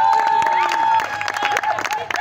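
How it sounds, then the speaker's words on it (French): Wedding guests at a civil marriage and dowry ceremony applaud loudly and steadily, with scattered cheers and voices mixed into the crowd noise. "On l'applaudit très très fort"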